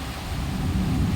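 Low, continuous rumble of thunder rolling steadily, with rain noise blended in; no voices.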